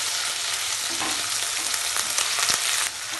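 Ginger and garlic paste frying with golden-brown onions for Hyderabadi bagara rice gives a loud, dense, unbroken sizzle close by, with faint stirring taps and no talking.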